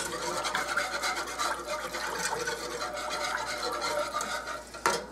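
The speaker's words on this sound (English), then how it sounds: "We're going to whisk this up a little bit, break it up" A whisk beats hot liquid in a bowl for a potato and ham casserole, giving a steady, continuous swishing and scraping up close, with a sharper knock near the end.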